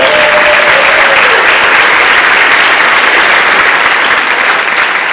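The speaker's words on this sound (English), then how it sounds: "So we can do a little round of applause for that" Loud, dense audience applause at a high school senior awards ceremony, a continuous roar of many hands clapping close and full throughout, with a faint tone briefly audible at the start.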